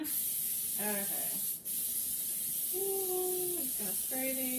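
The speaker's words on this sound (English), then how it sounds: "Gonna spray these. I'm an over sprayer." Cooking spray hisses in sustained bursts into a baking pan for chocolate chip cookie cups, close and fairly loud, with a voice talking over it.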